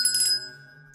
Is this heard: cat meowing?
no